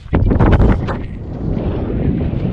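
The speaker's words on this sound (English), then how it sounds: "The wind is southeasterly, obviously, or mainly from the south." Strong southerly wind at sea aboard a sailboat, loud roaring gusts buffeting the microphone early on, then a steadier rushing blow with a rolling swell.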